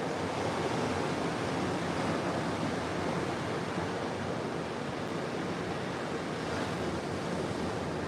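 Ocean waves roll and break on a Florida panhandle beach in a continuous, loud wash of surf, with wind buffeting the microphone.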